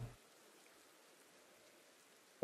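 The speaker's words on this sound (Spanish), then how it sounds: "Empezó a llover." Steady soft rain falls in Pokémon Legends: Arceus, a faint, even hiss that carries on alone with no talk, framed by brief low thumps at either end.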